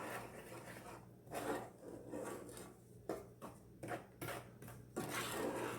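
A boiling chocolate pecan praline mixture is stirred in a pot, with repeated rasping scrapes of the utensil against the pot in an uneven rhythm, close but quiet, no talking.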